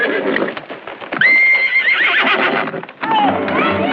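A loud, high horse whinny from a movie rises and trails off, followed by a second shorter neigh, with clopping and talk around it.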